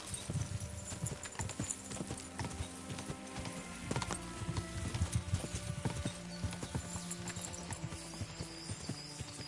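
Hooves clip-clop in a quick, uneven rhythm, a horse galloping in the video game Kingdom Come: Deliverance II, with faint background sounds, no talk.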